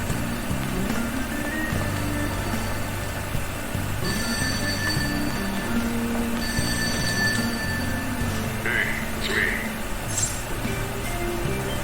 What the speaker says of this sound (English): That ringing sound isn't coming from my cell phone.